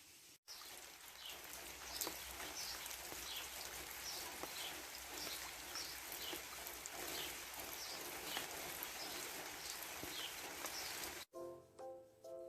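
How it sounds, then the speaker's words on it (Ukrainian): Soft, steady patter of light drizzling rain in a Ukrainian village, a fine continuous hiss with scattered drips, fairly faint and even throughout, ending abruptly. "Такий міленький дощик моросить по плечах"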